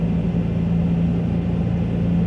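A Dodge Dakota pickup with a swapped TDI diesel engine cruises in fourth gear at about 65 mph and 2600 RPM on a -20°F day, giving a steady, close, unbroken low drone with no talk.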